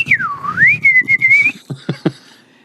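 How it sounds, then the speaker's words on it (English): A single person whistles a clear, sliding tune for about a second and a half, followed by a few short breathy sounds. "You gotta whistle like a man, like John Wayne would whistle."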